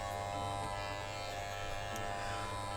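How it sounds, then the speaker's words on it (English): An electric shaver buzzes steadily and close up as it shaves faux fur on a fennec fox fursuit, a continuous even hum running the whole time with no voices. "it feels so good to shave good quality fur"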